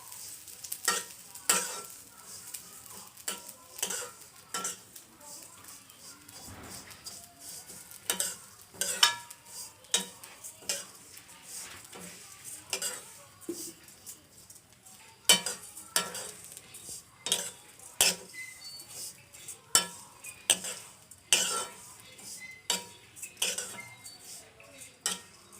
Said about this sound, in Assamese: এতিয়া মই ঢালিছোঁ চেৱৈখিনি ভাজি ল'ম প্ৰথমে